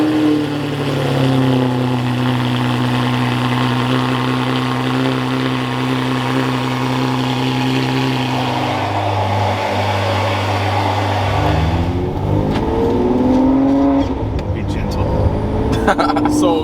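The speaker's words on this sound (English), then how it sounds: "put a straight pipe basically on the 599, and it's a Valvetronic system" Ferrari 599 GTB with a straight-piped Valvetronic titanium exhaust, loud and close, holding a steady deep drone before the revs climb and waver near the end, with talk over it.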